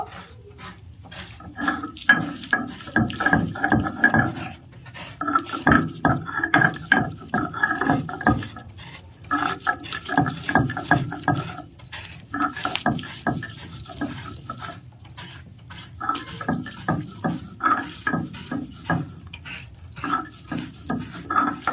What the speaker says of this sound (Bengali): এখানে আমি নিয়েছি রসুন, আদা, কাঁচা লঙ্কা, সব একসঙ্গে বেটে নেব।